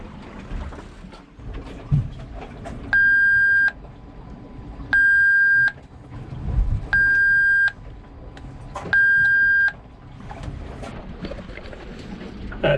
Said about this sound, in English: I was turning the alarm off.